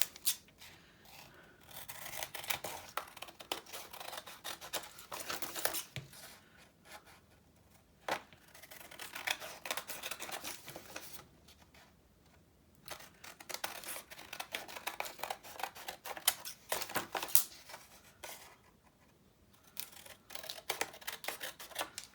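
Scissors snip through paper squares for handmade tags and cards, a quiet string of close crisp cuts with short pauses between strokes and no talking.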